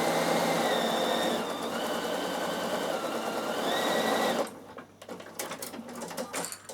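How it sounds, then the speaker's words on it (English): A Bernina sewing machine runs a quarter-inch seam through the layers of a linen pillowcase, a loud, fast, steady whirring hum for several seconds that stops abruptly, followed by soft fabric rustling and handling. "So now my 1/4 inch seam, and it's sewing all my layers nice and evenly"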